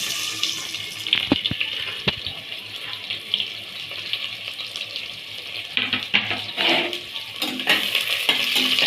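Chopped onion is fried in a pan for an egg rice dish, giving a close, bubbling sizzle broken up by sharp scrapes and knocks of a spatula being stirred through, with no talking.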